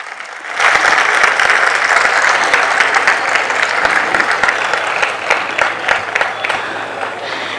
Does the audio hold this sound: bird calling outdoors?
no